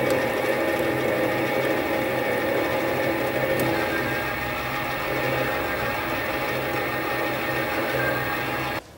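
Metal lathe taking a light skim cut on a small turned part, a steady whirring hum with faint cutting hiss running evenly throughout, stopping abruptly at the end.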